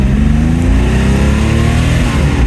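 An air-cooled Porsche 911 T with its engine mounted in the rear revs hard, a loud, close, throaty flat-six growl that holds a steady, pulsing drone the whole way through.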